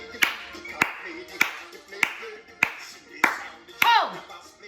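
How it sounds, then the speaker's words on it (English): Clapping game with rhythmic hand claps only, no words: seven sharp claps in a steady beat, close and fairly loud, with brief silences between them and faint voices underneath. "We just do clapping."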